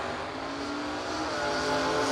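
Pontiac Firebird drag car at a drag strip, its engine a loud, steady roar that builds slightly toward the end, with no voices.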